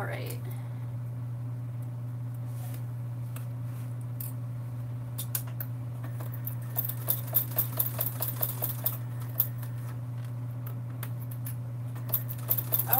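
A sewing machine stitches the bottom of a sling bag's lining in a home sewing room, a steady motor hum running under the whole stretch with light clicks and patters toward the end. No one speaks.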